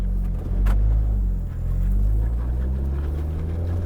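A car pulls away under normal acceleration on ice with Nexen winter tires, a steady, low engine drone and rumble rising gently, accompanied by a brief sharp noise near the start.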